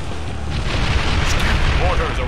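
Mortar shells landing in the fantasy war game Kingdom Under Fire: The Crusaders, loud rumbling booms that roll into one another over a thick, constant battlefield din.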